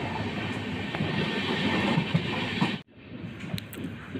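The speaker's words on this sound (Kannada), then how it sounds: "ಹರಿಹರ ರೈಲ್ವೆ ಸ್ಟೇಷನ್ನ ಸ್ಕಿಪ್ ಮಾಡ್ತಿದ್ದೀವಿ ಪ್ಲ್ಯಾಟ್ಫಾರಮ್ ನಂಬರ್ 3ಇಂದ" Steady rolling rumble of a Sampark Kranti express train running through Harihar railway station past a parked goods train, loud and continuous, then dropping off abruptly near the end to a quieter carriage hum.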